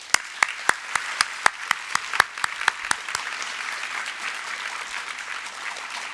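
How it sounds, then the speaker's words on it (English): Audience applause at a school promotion ceremony for Year 6 and Year 9 students, opening with sharp, distinct claps from a few people near by that quickly swell into a steady, dense round of clapping from the crowd. "Big round of applause, please."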